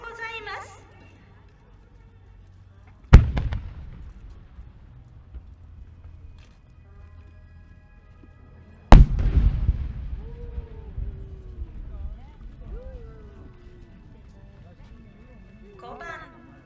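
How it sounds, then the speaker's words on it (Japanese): Traditional chrysanthemum-type fireworks at the Nagaoka fireworks festival: two sharp, heavy booms several seconds apart, each followed by rolling echoes and crackle, with faint whistles between. "伝統の菊型花火です。"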